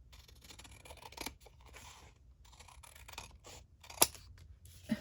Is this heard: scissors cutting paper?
yes